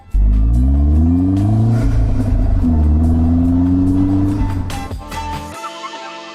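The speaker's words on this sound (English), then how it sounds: "I'll hear a little turbo whoosh up front and a little rumble at the back" A turbocharged car under acceleration gives a steady, loud exhaust rumble with rising engine tone, a faint turbo whoosh on top, then the drone drops away abruptly near the end as the throttle lifts.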